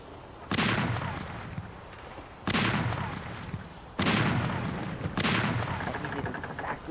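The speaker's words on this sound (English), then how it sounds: "you're just going to load up the side of your ship with guns and fire." Ship broadside cannons fire in the naval video game Battle Navigation as four loud, heavy booms about two seconds apart. Each boom has a long rumbling tail, and the reverberation runs from one shot into the next.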